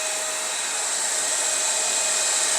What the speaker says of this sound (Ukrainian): Зараз включаємо пилосос, працює пилосос і кенхель.